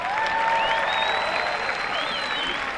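An audience at the California State University, Northridge 2024 Honors Convocation bursts into loud, steady applause and cheering, with whistles rising over a dense wash of clapping that holds for the whole stretch.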